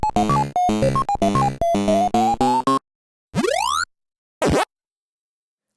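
Classic Pac-Man arcade video game sounds: a bright, bouncy electronic jingle of quick beeping notes, then two rising and swooping synthetic sweeps separated by silence, loud and clean with no talking.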